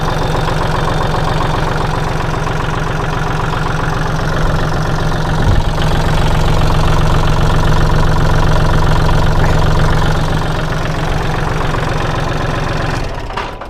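A Kubota L3608 diesel tractor engine idles close by with a steady, rough low rumble and knocking, continuous and loud throughout with no voices.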